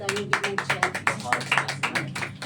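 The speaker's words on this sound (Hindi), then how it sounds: "चलो एक बार जोरदार ताली बजाना" A group claps hard in a quick, even rhythm, sharp repeated slaps filling a short stretch, with voices sounding underneath.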